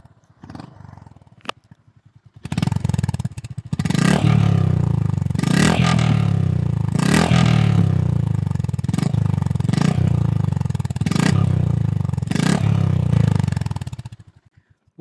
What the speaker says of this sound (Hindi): अब एक बार आपको एग्जॉस्ट सुनाता हूँ